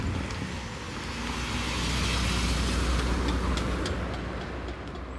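Outdoor parking lot in Sweden with a steady roar of nearby traffic, cars passing in a continuous wash of road noise that swells in the middle and eases toward the end, with no voices.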